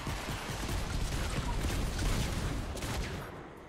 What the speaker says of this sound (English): I'll go ahead and drop an airstrike here.